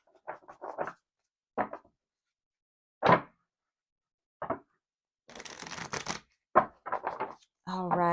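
Tarot cards shuffled by hand in short, quiet bursts of riffling and patter separated by pauses, with one longer rustling run near the end.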